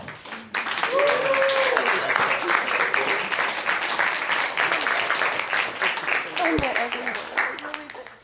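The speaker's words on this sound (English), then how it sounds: "Give a round of applause, folks. Keep it going." Wedding guests break into loud, sustained applause after a toast, many hands clapping at once, with voices and cheering mixed through it.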